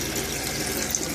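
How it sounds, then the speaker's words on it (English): Water running from a brand-new faucet into the galley sink of a 1975 Chris Craft Express 33-foot flybridge cruiser, a steady close hiss with no pauses. "Turn on the water here."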